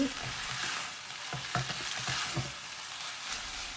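Chicken giblets stir-fried dry with lemongrass, chili and kaffir lime leaves, a steady close sizzle broken by a cluster of spatula scrapes and knocks against the pan, no talk.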